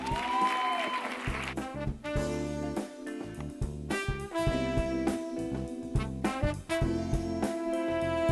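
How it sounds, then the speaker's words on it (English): Audience applause at the Oman Women Summit 2018, clapping that is heard under loud, steady music that dominates the sound throughout. "Give a round of applause"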